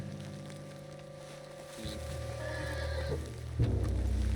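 A horse in a video game whinnies and snorts over a low, steady ambient rumble, with a louder shuffling thud near the end.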